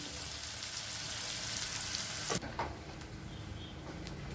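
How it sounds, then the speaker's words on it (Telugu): Onions sizzling in hot oil with mustard seeds, a steady close crackling hiss that drops in level partway through, with a few brief stirring clatters and no talking. "ఆవాల్లో ఈ ఎల్లిపాయలు వేస్తున్నాను"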